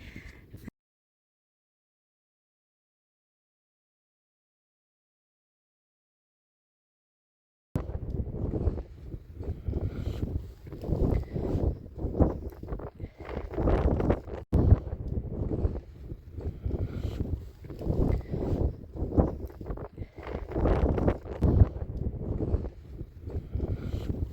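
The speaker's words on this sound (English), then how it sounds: "It's so windy, guys." Strong Sahara desert wind in Morocco buffets the microphone in a constant roaring rumble after a few seconds of silence, loud and close throughout.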